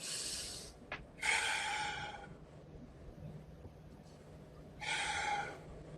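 A man demonstrates irregular breathing: sharp, hissy inhalations and exhalations in uneven bursts, one quick snort-like catch, a long gap and another forceful breath, close to the microphone.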